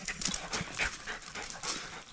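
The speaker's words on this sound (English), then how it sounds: "What a nice looking dog." A young dog, nearly two years old, pants close by in quick, breathy bursts that keep up steadily throughout, with no talking over them.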